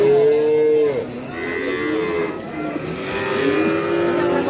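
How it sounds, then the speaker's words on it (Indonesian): Limousin bull calf mooing at a cattle market in Tuban, two long loud bellows close by with a faint murmur of market activity in the background. "pedet jantan lemosin"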